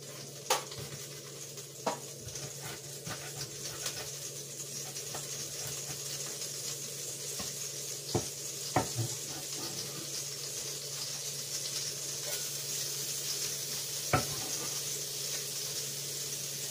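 Garlic and onion sizzle steadily in a pan, a constant frying hiss with occasional sharp clicks and scrapes of stirring, no talking.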